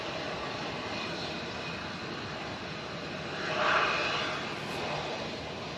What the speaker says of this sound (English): Off to Corfu, they go with that A321 Neo